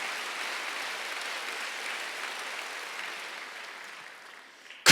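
Church congregation applauding during a Sunday worship service, a steady broadband wash of many hands clapping at even loudness that slowly tapers off near the end.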